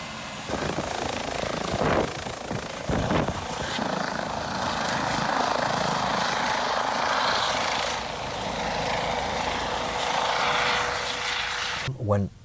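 Medical air ambulance helicopter carrying a crash victim, heard as a steady broadband rotor and engine roar that sits under talk for most of the time and cuts off abruptly at the end.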